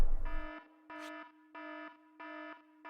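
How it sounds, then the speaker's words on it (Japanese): Emergency alarm in the video game Grisaia Chronos Rebellion, a loud electronic tone blaring in four even pulses after a short opening burst, alone with no talk. "緊急警報。"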